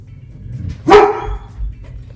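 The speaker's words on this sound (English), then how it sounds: "The dog scared me." A single dog bark, sharp and fairly close, rising above a low background hum, followed by a quieter muffled sound.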